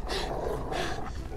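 A dog growls low and rough in the video game Beyond Two Souls, a short, steady, close rumble with no speech over it.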